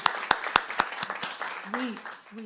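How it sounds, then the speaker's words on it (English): A handful of sharp hand claps land in quick succession, then thin out as voices take over. "round of applause."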